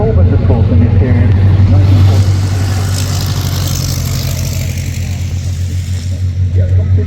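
An Edwardian Talbot racing car and others in a small group during S.F. Edge Trophy practice at the Goodwood Members Meeting: a loud, steady low engine drone that swells and eases as they pass, with a commentator talking over it.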